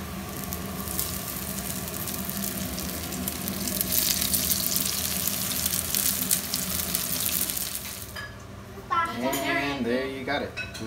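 Steady, loud sizzling of bean and cheese pupusas frying in a pan fills most of the clip, then a voice chatters near the end over the fading crackle.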